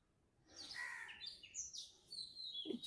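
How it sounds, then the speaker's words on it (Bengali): An oriental magpie-robin (doel) calls from among mango trees, giving a short run of faint, high, clear chirps and whistled notes at a distance. "দোল পাখিটা ডাকাডাকি করছে, কোথায় যেন দেখতে পাচ্ছি না আমি ওকে।"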